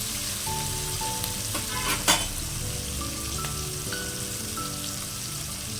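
Onions, green chillies and tomato with a pinch of turmeric frying in a pan for a chana dal biryani, a close, steady crackling sizzle with a brief louder spatter and faint clinks, no voices.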